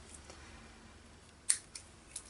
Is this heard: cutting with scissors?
yes